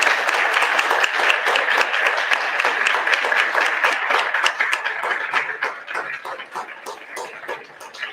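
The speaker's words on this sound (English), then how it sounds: "Let's give them a round of applause" An audience at an Ankeny city council candidate forum in the chamber gives a round of applause, a bright, close clapping that runs steadily and then thins and fades toward the end.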